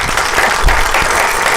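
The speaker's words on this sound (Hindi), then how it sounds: "तालियां बनती है भाई आपके लिए" Audience applause at an Eid-day stage program, a dense, steady wash of clapping that fills the whole short stretch at full volume.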